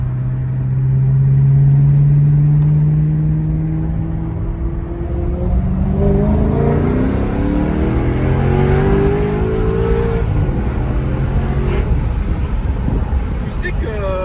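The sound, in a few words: sports car engine accelerating, 440 horsepower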